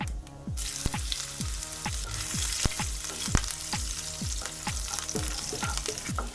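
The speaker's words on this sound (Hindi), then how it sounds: "इसमें डाल देंगे ये हरी मिर्च" Green chillies sizzle in hot oil with cumin seeds and asafoetida while a spoon scrapes the pan in a steady rhythm, about two strokes a second, over a constant close frying hiss.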